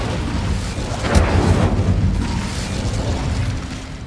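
Incendio fire spell cast in Hogwarts Legacy, a sudden fiery burst with a booming whoosh around the one-second mark, then sustained crackling roar and rumble fading slowly, alone without talk.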